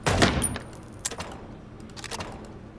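Gunshots from a revolver-style weapon in the noir video game Chicken Police: one loud sharp report opens, then a few fainter scattered shots and clicks follow, with no talk.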